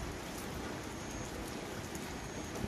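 Steady rain falls in a village during the cold rainy season, a soft, even patter and hiss of drops on surfaces with no breaks.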